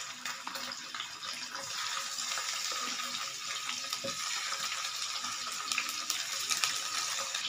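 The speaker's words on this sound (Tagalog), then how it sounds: "Prito muna natin guys hanggang sa mag-brown siya guys." Steady, dense sizzling and crackling of chicken frying in hot oil in a pan, browning, continuous for several seconds with occasional louder pops, close by.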